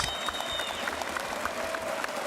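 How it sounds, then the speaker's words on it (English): Steady, moderate applause from a crowd at a Rainbow Six Siege event, continuous clapping with a faint tonal hum running beneath it. "Clap it out."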